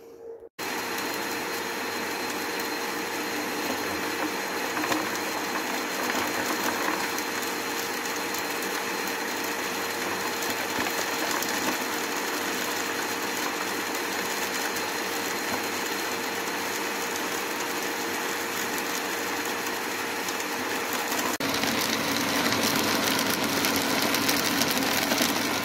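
A vacuum unit on a berry-picking machine sucks debris into its collector with a loud, steady whirring roar that holds for over twenty seconds and shifts slightly in tone near the end, with no voices.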